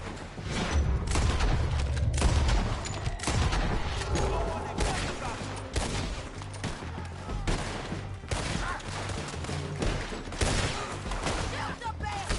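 Heavy gunfire in Red Dead Redemption 2 rolls on steadily, with dense overlapping rifle and pistol shots, some near and booming and others farther off, continuing under shouting voices throughout.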